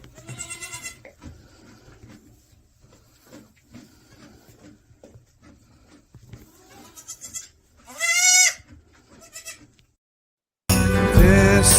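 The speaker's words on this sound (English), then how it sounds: "We're gonna cut you guys off with your moment of bliss, which is gonna be Pedro's goats." Goats bleat in a few loud, wavering calls, with a strong burst near the start and another later, over quieter farmyard rustling. A sudden loud noisy blast closes the clip.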